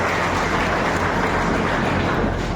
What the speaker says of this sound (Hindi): आप विजय हुए हैं और जिन्होंने सीखा है उनके लिए जोरदार तालियां।